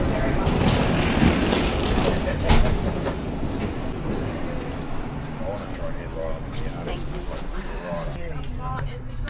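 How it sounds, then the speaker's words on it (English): An XPT passenger train arriving at a station rumbles and clatters nearby with a steady, heavy roar and some rhythmic clacking. People talk over the noise. "The train arrived on time."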